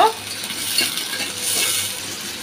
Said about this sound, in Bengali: এবার পেঁয়াজটা একটু লাল লাল করে ভাজা করে নেব।